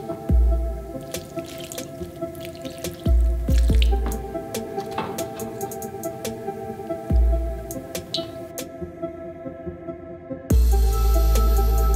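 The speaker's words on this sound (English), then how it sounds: "Now it's time to water my houseplants and give them a little TLC" Water from watering houseplants drips and trickles in short pours, with splashes recurring every few seconds, ending in a louder, steady gush of running water.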